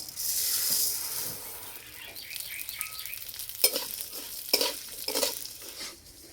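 Vermicelli frying in hot oil in a wok: a strong hiss at first, then quieter sizzling broken by several scraping stirs of a spatula against the pan, close by.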